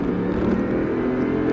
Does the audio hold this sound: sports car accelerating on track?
yes